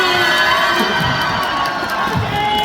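A crowd including children cheers and shouts at a Boxing Day gathering, a loud, sustained wall of voices that stays constant throughout with little individual clapping standing out.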